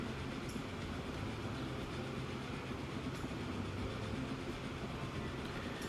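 Coal train in the video game Transport Fever 2, a steady dense rolling rumble with faint rail clatter throughout, loud and continuous, no talking.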